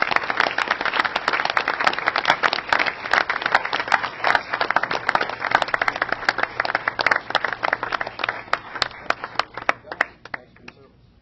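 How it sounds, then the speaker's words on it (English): An audience at a city council meeting applauds in a dense, steady burst of many hands clapping that carries on for several seconds, then thins out and fades to a few scattered claps. "So can we give these guys a round of applause,"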